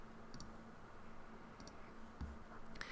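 A computer mouse gives a few soft, faint clicks spaced apart over a quiet room background.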